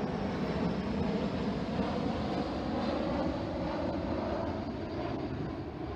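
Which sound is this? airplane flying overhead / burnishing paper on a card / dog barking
airplane flying overhead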